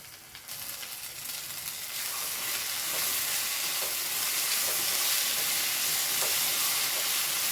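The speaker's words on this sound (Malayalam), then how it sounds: "കാശ്മീരി ചില്ലി ഒരു സ്പൂൺ ഇട്ട് കൊടുക്കുന്നുണ്ട് ഒന്ന് ഇളക്കി കൊടുക്കട്ടെ" Crushed chili and a spoon of Kashmiri chili powder frying in a pan for chicken kondattam, a loud continuous sizzling hiss that rises after a brief quieter opening, with faint stirring scrapes underneath and no voices.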